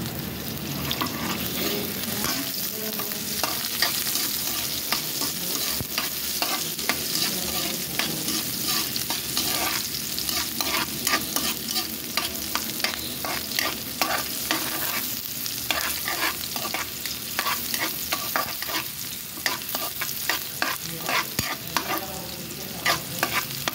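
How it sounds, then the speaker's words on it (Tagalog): Onions fry toward brown for chicken adobo, with a dense, close sizzle and rhythmic scraping from a utensil stirring the pan steadily throughout. "Tapos, lagyan natin ang sibuyas. Mix lang guys. Mix. Hanggang mag-brown yan."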